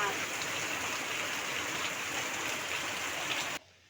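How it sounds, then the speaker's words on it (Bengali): Heavy rain pours down in a dense, steady hiss, then cuts off abruptly near the end. "দেখো জোরে বৃষ্টি হচ্ছে, জোরে, দেখো কি জোরে বৃষ্টি আসলো"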